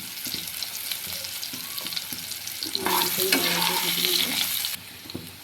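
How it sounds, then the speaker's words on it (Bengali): Potatoes frying in oil with turmeric and sugar, a close, steady sizzle and crackle with occasional stirring, growing louder and hissier midway as the pan heats up, then easing slightly. "এবার ওই তেলেই আমি আলুগুলোকে ভেজে নেব"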